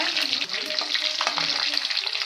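Hot oil sizzling and crackling steadily, with small seeds popping in quick bursts throughout, close by and without any voices.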